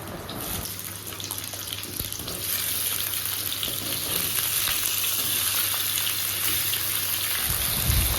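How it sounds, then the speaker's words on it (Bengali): Potatoes and carrots fry in hot oil, a loud, steady sizzling hiss with faint stirring scrapes, continuous and close for several seconds without speech. "ওই তেলে আলু আর গাজরটা ভেজে নেব।"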